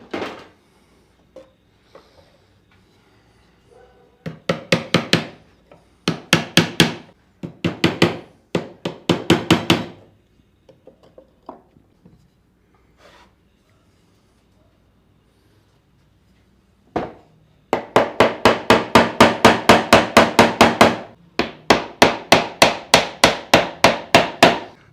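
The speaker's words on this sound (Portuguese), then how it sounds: "Então agora eu vou pregar 2 preguinhos aqui." Small nails being hammered into a wooden drawer in a rustic woodworking job: several bursts of rapid, sharp hammer blows, close and loud, separated by quiet pauses, with a long steady run of strikes near the end.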